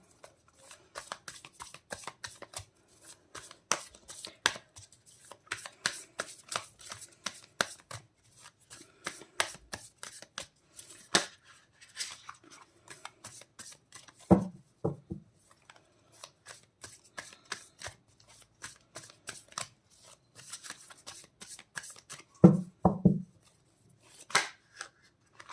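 Tarot cards being shuffled by hand in repeated riffling bursts, crisp papery flicks and snaps coming in clusters with short pauses between, close and fairly quiet, with no talking.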